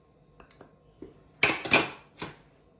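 A few sharp scrapes and clinks of a utensil against a bowl as Camargue rice salad with tuna is mixed, brief bursts separated by short pauses, close and fairly loud.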